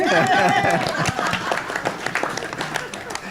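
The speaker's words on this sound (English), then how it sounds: "We appreciate a round of applause for Deb." Scattered applause breaks out at a town council meeting in Altadena, clapping mixed with voices in the room, louder at first and thinning over a few seconds.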